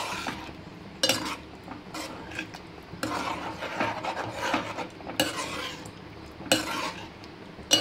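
Taro root curry being stirred in a pan, with repeated scraping and rasping strokes of a utensil against the pan in irregular bursts, close and clear with no talking.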